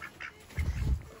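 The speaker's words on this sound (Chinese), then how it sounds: "只可惜你是个公鸭子，好肥呀" A plump male duck gives a short run of low, soft quacks close by, with a quiet background before it.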